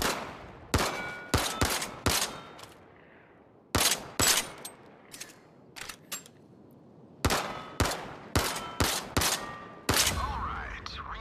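Gunfire at targets in the VR shooter Zero Caliber comes as loud, close shots in quick clusters and short bursts separated by brief pauses, with faint metallic handling noises between volleys.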